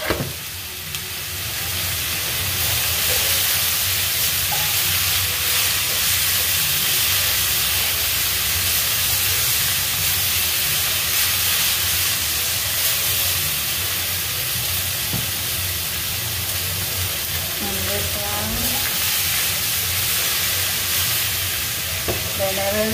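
Eggplant sizzles in a hot pan with a steady, loud frying hiss that runs throughout, with occasional faint stirring scrapes close by.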